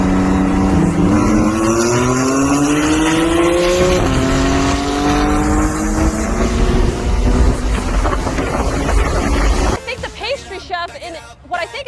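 Porsche 911 and Ferrari 458 Spider roll racing side by side, engines loud and close with a rising pitch as the cars accelerate through the gears, then cutting off sharply near the end into wind and rougher noise, with people talking over it.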